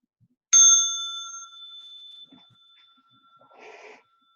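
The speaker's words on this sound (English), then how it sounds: "On the first sound of the bell, we'll rise" A single meditation bell struck once during a walking meditation session, a clear ringing tone that decays slowly, followed by faint rustling and a soft muffled sound.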